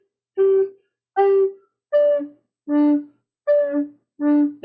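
Six separate recorder notes, each cut off by a silent gap for a breath, are started with air alone instead of the tongue, giving soft, rounded onsets. The close, clear tones step across a few pitches with an even, halting rhythm.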